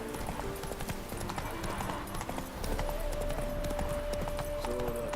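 Horse hooves clip-clop at a steady galloping rhythm in The Witcher 3, joined by game music with a sustained tone, loud and continuous with faint voices underneath.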